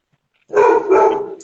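A dog gives a drawn-out, tuneful bark-howl, loud and close, rising after a short silence and holding for about a second as if singing along.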